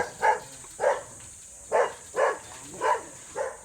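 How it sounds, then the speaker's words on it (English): Dog in a cage barking near a wooden pump boat, six evenly spaced barks with short pauses between them over a steady background hiss. "there's a dog in cages"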